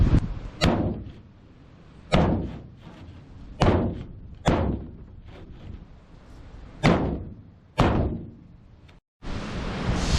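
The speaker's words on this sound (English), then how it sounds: "Let's get us a hammer and a block of wood, see what we can make happen." A hammer drives a block of wood against a Ford Ranger body panel outdoors, giving about seven sharp, loud knocks at irregular intervals with short ringing decays and no talking.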